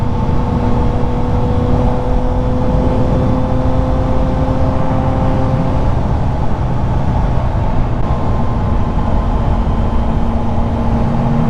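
Steady engine drone from a motorcycle cruising at about 45 mph on a suburban road, with continuous wind and road roar and a constant hum throughout, no voices.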